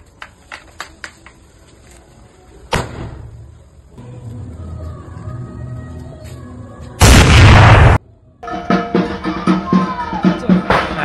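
A homemade carbide pipe gun fired for Diwali, letting off one loud, sharp boom amid scattered clicks and handling noise. Background rumble and other sounds surround the blast.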